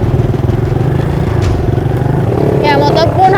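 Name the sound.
motorcycle struggling up a slippery, muddy slope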